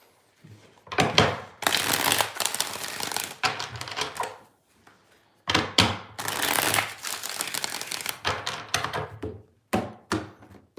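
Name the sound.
tarot cards being shuffled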